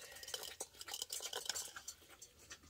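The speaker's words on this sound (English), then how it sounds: "Let's give that a good old mix." A spoon briskly stirs a chocolate drink mixture with cayenne pepper, making a quick run of light clinks and scrapes against the container, close and fairly soft.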